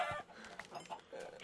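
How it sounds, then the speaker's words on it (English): A chicken in Minecraft gives a few soft, short clucks against quiet game background noise, faint and brief, with no speech. "Hello, Mr. Chicken."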